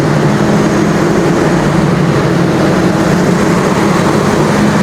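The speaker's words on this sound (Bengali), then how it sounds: "এটা হচ্ছে আমাদের এই ট্রেনের পাওয়ার কার।" Generator engine in the power car of the Rupashi Bangla Express train, a loud, constant low droning hum with a dense noisy wash on top, steady throughout and heard up close without speech.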